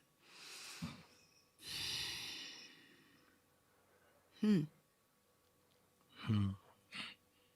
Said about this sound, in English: Take a deep breath now